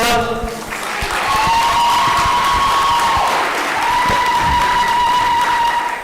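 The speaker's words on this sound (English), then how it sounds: "Can we have a huge round of applause for our mother?" An audience at a refugee community forum gives loud, sustained applause with some cheering, lasting several seconds at a steady level.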